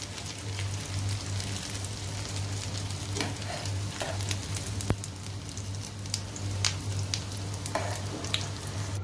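Chicken shami kababs frying in a pan give a steady, close sizzle that runs throughout, with occasional crackles and pops rising above it and no talking.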